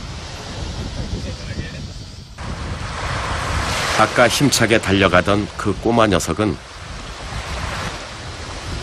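Ocean surf washing onto a sandy beach where sea turtle hatchlings crawl toward the water, a steady wash of waves and wind noise throughout, with a narrator speaking over it in the middle.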